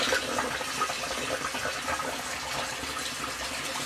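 Garden hose running water into a barrel, a steady broadband gush of filling water that holds at a constant level throughout with no talk.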